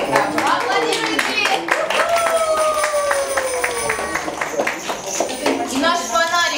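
Audience clapping at an Irish music concert by the ensemble St. Patrick's Sisters, steady crowd applause with some cheering, mixed with music tones and voices throughout.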